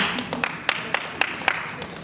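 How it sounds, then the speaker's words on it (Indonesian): A modest audience at a family-education training session gives scattered hand claps, a thin patter of separate claps rather than full applause, fairly quiet in a room. "Tepuk tangan"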